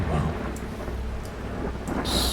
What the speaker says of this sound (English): So much thunder.